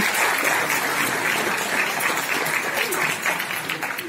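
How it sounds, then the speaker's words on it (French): Audience at a municipal New Year's greetings ceremony in Les Trois-Moutiers applauds steadily, a dense, even clapping from a room full of people that holds for the whole stretch without a break. "Et vous pouvez les applaudir."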